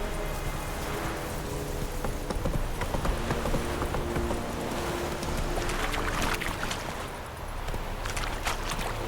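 Roach, a horse in The Witcher 3, gallops with rapid, rhythmic clip-clopping hooves that carry on steadily throughout, close and fairly loud over game ambience.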